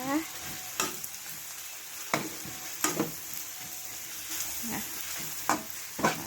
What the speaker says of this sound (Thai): เสร็จแล้วเราก็ผัดค่ะ เราก็ผัดเลยนะคะ